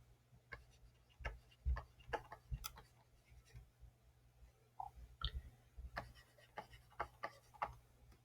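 Marker or chalk writing on a board during a linear algebra lecture, heard as faint, scattered ticks and short scratchy strokes in an irregular rhythm, quiet and close, with no voice.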